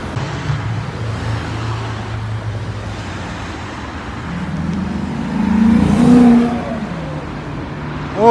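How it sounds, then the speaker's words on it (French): A sports car accelerates along a Grenoble city street, its engine note swelling from a steady low rumble into a louder rising rush midway, then easing off, with no talk. "Oh, la petite accélération là."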